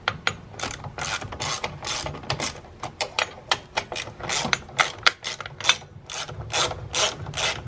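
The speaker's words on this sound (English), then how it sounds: "Yep, let's loosen those brackets up." A hand ratchet loosens motor mount bracket bolts on a 2018 Honda Accord. Quick bursts of close, crisp clicking come in a fast, irregular rhythm with brief pauses between pulls, and no one speaks.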